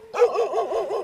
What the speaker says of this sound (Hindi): कुत्ते बहुत जोर जोर से भौंक रहा है, पता नहीं क्या सीन है।